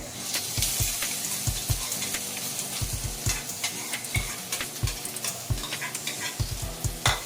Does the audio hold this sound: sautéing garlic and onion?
yes